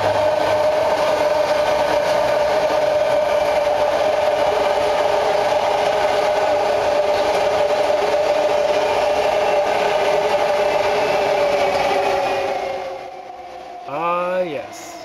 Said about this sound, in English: this BART station here in western Oakland has more than 100 trains a day going past